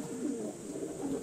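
Pigeons cooing near a loft as part of the flock returns, soft low repeated coos in a close, moderately quiet setting with no talking.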